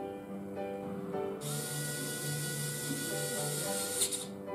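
Vessel 220USB electric screwdriver running and tightening, a steady motor whir with a gear ratchet clicking as the clutch slips once the screw seats, close and alone.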